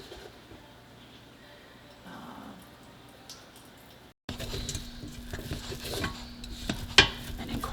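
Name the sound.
stirring flour mixture with stock in a pot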